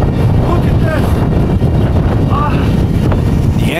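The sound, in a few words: strong hurricane wind gusts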